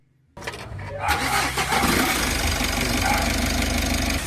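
A Mitsubishi L300 Euro4 van engine cranks briefly and catches, then settles into a steady, loud idle with a low knocking rumble close by.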